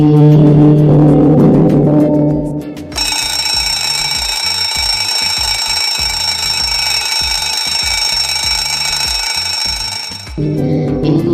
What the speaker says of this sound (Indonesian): Jam weker berdering sangat kencang.